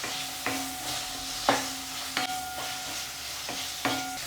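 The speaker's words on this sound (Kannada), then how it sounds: "ಟೊಮೆಟೊ ಹಣ್ಣು ಚೆನ್ನಾಗಿ ಮೆತ್ತಗಾಗೋ ತನಕನೂ ಈ ಎಣ್ಣೆನಲ್ಲೇ ಬೇಯಿಸಿರಿ ಇದನ್ನು" Tomatoes softening as they fry in oil in a pan while being stirred, with a steady low sizzle broken by several sharp scraping clinks of the spoon against the pan. No one talks.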